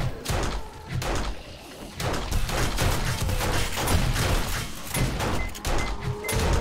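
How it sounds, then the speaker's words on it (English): Shotgun blasts in a survival video game during a blood moon horde, repeated booming shots and crashes at irregular intervals, loud and dense throughout with chaotic impacts. "Shotgun time."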